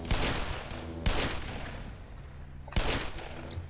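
Revolver gunfire in a Black Mesa deathmatch game: three sharp, loud shots at irregular intervals, each trailing off into a rumbling echo.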